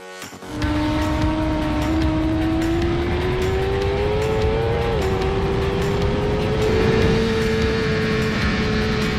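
Suzuki GSX-R 1000 sport motorcycle lapping Castle Combe race circuit, a loud sustained engine note holding high revs with rising pitch as it accelerates, alone with no talk.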